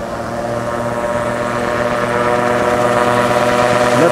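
The Eole aircraft's engine throttles up for takeoff at Candillargues airfield, a loud, close, sustained propeller drone with steady tonal harmonics that swells slightly as power increases.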